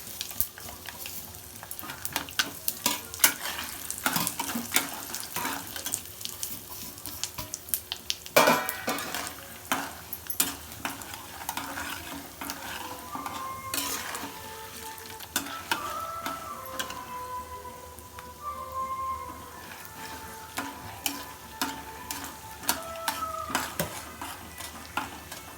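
Spices, cashews, asafoetida and turmeric crackle and fry in oil for lemon rice, punctuated by frequent metallic clinks and scrapes of a spoon against the pan, close and lively with irregular bursts.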